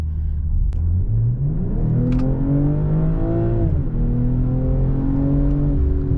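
A 2023 BMW M340i accelerating hard, its engine note loud and close, climbing steadily in pitch, dropping briefly at a gear change, then rising again under a constant road rumble.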